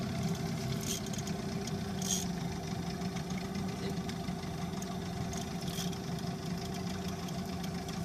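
An outboard engine idles steadily on a fishing boat on a foggy morning, a continuous low rumbling drone with an even tone and a few faint higher noises over it.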